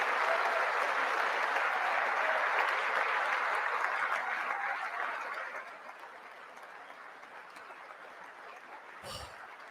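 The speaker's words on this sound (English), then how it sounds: "Pelosi clapping." Broad, steady applause from a large crowd at a political speech with Nancy Pelosi among those clapping, loud and dense for about five seconds before thinning to a softer sustained patter.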